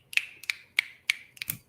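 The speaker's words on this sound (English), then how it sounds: "Why are you snapping," Five crisp finger snaps in a quick, slightly uneven rhythm, close to the microphone in a quiet room, followed by a couple of softer taps.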